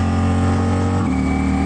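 A 2023 Ducati Diavel V4 motorcycle fitted with a Termignoni dragster exhaust rumbles loudly and steadily up close on back roads in the Sierra foothills, and its engine note shifts pitch about halfway through.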